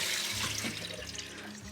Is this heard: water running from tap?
yes